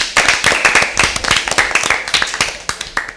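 A lively burst of hand clapping for the winning team at an Easter Bible quiz show, sharp and close with a quick, uneven rhythm that lasts a few seconds.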